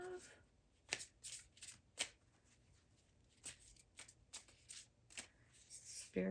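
Tarot oracle cards are shuffled close by in a quiet room, giving a series of short papery riffles and soft slaps spaced irregularly, with faint background speech.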